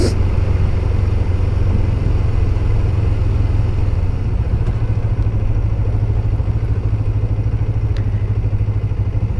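A liquid-cooled 1991 Kawasaki Ninja EX500 motorcycle drones steadily while riding in cool evening air, its low engine rumble mixed with constant wind rush.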